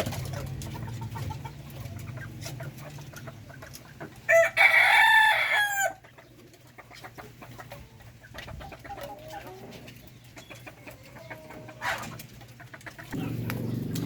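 A rooster crows loudly once in the middle, amid steady clucking and chirping from chickens and chicks in a backyard flock, with a low background hum throughout.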